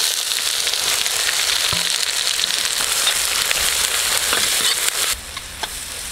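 Onions fry loudly with fennel seeds, cinnamon and cumin in hot oil for a green papaya curry, a dense, steady crackling sizzle close by that dips briefly near the end.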